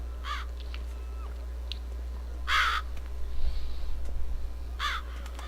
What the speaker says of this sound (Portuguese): Os corvos não estão ali à toa.